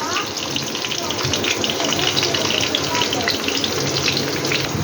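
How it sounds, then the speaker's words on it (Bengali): Nigella seeds frying in hot oil in a wok, a steady, loud, dense sizzle that holds without a break from start to finish. "কড়াইতে কালো জিরা দিয়ে দিলাম"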